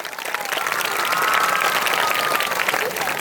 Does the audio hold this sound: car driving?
no